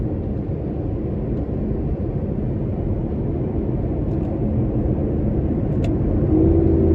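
A 2014 Aston Martin Vanquish drives under heavy throttle, its engine a dense continuous rumble heard from inside the cabin, steady and loud with a slight swell toward the end and no talk.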